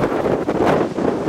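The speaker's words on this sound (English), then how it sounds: "Insane wind going on." A strong gust front sweeps past a roadside in Coyote, New Mexico. It makes a loud, continuous rushing roar that buffets the microphone, with no voices.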